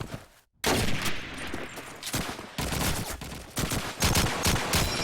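Rapid bursts of automatic and rifle fire crackle in a competitive Call of Duty 2 match, loud and dense, with a brief silent gap near the start before the shooting continues almost without pause.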